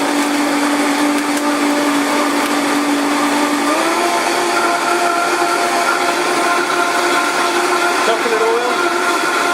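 Blender running a super food smoothie, a loud, steady whirring whine that holds throughout, pitch dipping briefly partway and again near the end as the load shifts.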